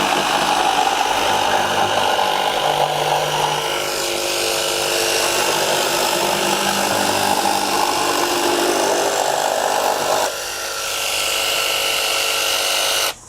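A Milwaukee M12 Fuel cordless jigsaw cuts at top speed with a loud, steady, close buzzing whine that holds for about ten seconds. The pitch shifts briefly near the end before it cuts off abruptly, and no one talks.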